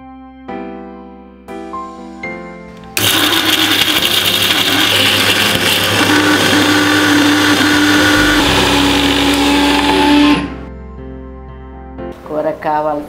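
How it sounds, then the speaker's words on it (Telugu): A mixer grinder whirs loudly and steadily for several seconds as it grinds garlic cloves, a piece of ginger, tamarind and a handful of coriander into curry masala, starting abruptly and cutting off near the end, with a voice briefly before and after. "1 గుప్పెడు కొత్తిమీర వేసి మిక్సీ పట్టుకుందాం."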